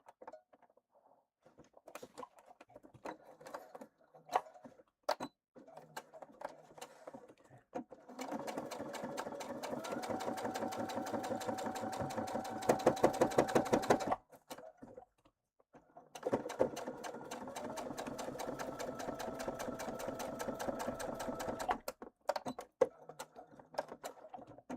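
Sewing machine running a top stitch, two sustained bursts of fast, even mechanical rattling separated by a brief pause, with scattered clicks and handling taps before and between the runs.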